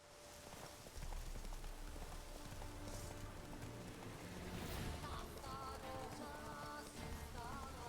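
Galloping horse hooves in the video game The Witcher 3, a loud, steady, rapid clip-clop that runs almost unbroken over a bed of in-game ambience.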